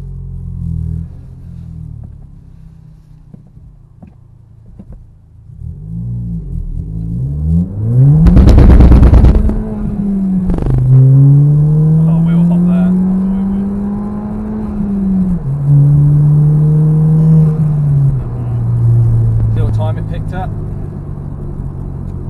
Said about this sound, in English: So first one, guys, the 0-60 without any throttle responder on